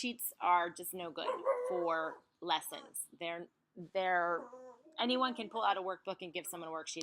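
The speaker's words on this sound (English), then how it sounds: "Sorry for my dog." A dog barks and yips in the background of a home recording, breaking through steady close speech from someone talking throughout.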